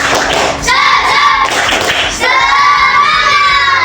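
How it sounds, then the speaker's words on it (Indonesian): A classroom of children performs the 'tepuk semangat' clap chant, rhythmic clapping mixed with loud, tonal group shouting in quick bursts, close and energetic, with a short dip in the middle. "Tepuk semangat."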